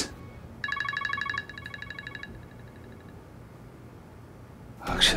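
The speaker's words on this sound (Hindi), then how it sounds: "अक्षरा इतनी रात को क्यों फोन कर रही?" A telephone rings late at night, a short burst of electronic warbling tones that then fades to a faint repeat, heard alone in a quiet room before a brief rustle.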